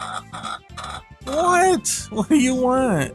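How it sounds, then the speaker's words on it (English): A chicken clucks and squawks nearby in rising, drawn-out calls that grow louder midway, with someone speaking briefly before them. "I don't know if you hear it clucking in the background."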